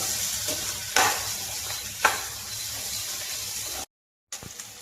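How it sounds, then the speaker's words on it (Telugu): Cluster bean (guar) pieces frying in a pan give a steady close sizzle with two sharp stirring scrapes, then a brief silent gap before the sizzle returns. "ఇంకా ఒక నాలుగు నిమిషాల పాటు మనం ముక్కల్ని ఫ్రై చేసుకుందాం ఇలాగే"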